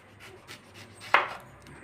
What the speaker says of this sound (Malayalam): നമ്മളിവിടെ കഴുകി വൃത്തിയാക്കി വെച്ചിരിക്കുന്ന സവാളയാണ്. അപ്പോൾ നമുക്കിതൊന്ന് കട്ട് ചെയ്തെടുക്കാം.